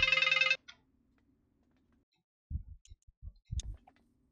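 A phone ringtone plays loudly for about half a second as a bright, harmonic electronic melody, then cuts off and leaves faint clicks and a few low thumps.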